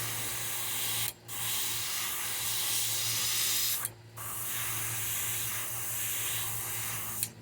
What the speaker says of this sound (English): airbrush plugged up a little